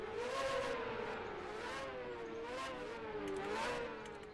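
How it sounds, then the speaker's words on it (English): Small inline-four engines in Formula Micro race cars revving at a race start, a high, whining note that climbs and dips in repeated waves, fairly distant and with no other sound. "You hear those little inline fours screaming."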